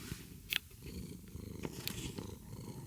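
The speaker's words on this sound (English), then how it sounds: "He's purring." A cat purrs softly and close up in a quiet room, a faint steady rumbling purr with small rustles over it and no voices.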